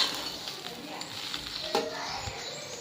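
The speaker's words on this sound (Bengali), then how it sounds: "চিড়েটা দিয়ে এখন নাড়াচাড়া করছি" Soaked flattened rice (poha) being stirred in a pan, with steady scraping and a soft sizzle running throughout, close and moderately loud, with no speech.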